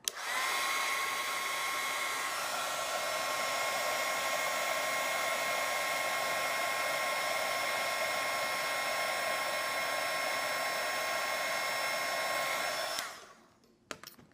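A heat tool blows with a loud, steady whirring hiss while melting embossing powder in a card-making project, running continuously for about thirteen seconds before switching off, followed by a couple of small taps.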